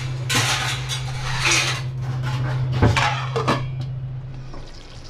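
A lid is set over a cooking pot of potatoes, making a few close metallic clinks and scrapes over a steady low hum, with no talking.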